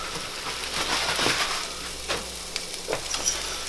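Asparagus tossed into a hot pan with translucent onions and garlic, a steady loud sizzle and frying hiss with a few scraping stirs and crackles near the end.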